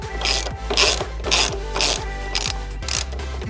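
A ratchet clicks in quick, regular bursts as a frame slider bolt is backed out on a Kawasaki Z400, about six close, crisp strokes with a steady mechanical rhythm.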